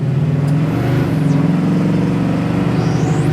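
A 1967 Pontiac Firebird with a 400 engine revs steadily up close, its deep, loud, continuous rumble shifting slightly in pitch, with no talking.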